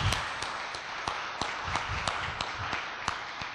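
An audience at a national secondary school debate competition semi-final gives a round of applause: a loose patter of scattered claps, moderately distant and even, with individual hand claps standing out.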